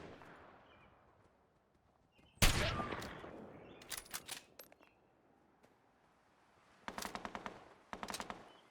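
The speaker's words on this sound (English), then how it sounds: "That is an awfully loud gun." Heavy gunfire crashes through a firefight in Fallout 4: a loud burst of shots, then scattered single cracks, then two rapid clusters of automatic fire near the end, with quiet stretches between.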